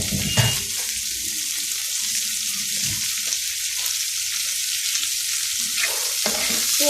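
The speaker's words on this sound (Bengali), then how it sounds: "একটু এটা পেঁয়াজ আলুটা একটু ভাজা ভাজা হোক" Sliced onion and potato fry in hot oil in a pan while a fish curry with sponge gourd is prepared, giving a steady, dense sizzle with occasional stirring scrapes and no talking.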